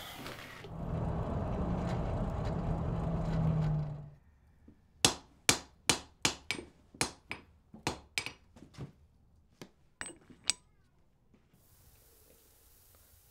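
Hand forging of wrought iron for a shop door bolt: a dozen sharp, ringing hammer blows on a steel anvil in an uneven rhythm, close and loud, following a few seconds of roaring, hissing forge fire.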